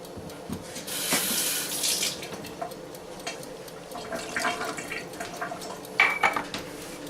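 A quarter cup of water poured into a pan of pork tenderloin with tomato and rosemary, a short splashing pour among clinks of cookware and utensils at close range.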